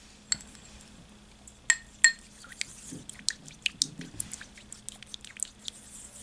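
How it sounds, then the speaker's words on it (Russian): A homemade face mask with ten drops of almond oil being whisked in a bowl: scattered light clinks and taps against the dish, a few sharper strikes early on, then quicker soft ticking, close and fairly quiet, with no voices. "И также тщательно взбейте все компоненты."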